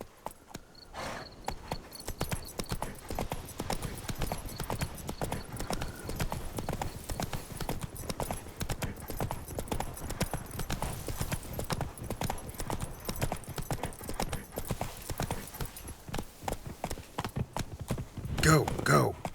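A horse in The Witcher 3 gallops in a steady, fast clip-clop of hooves that runs the whole way through, with game music and rider voices underneath and a louder burst near the end.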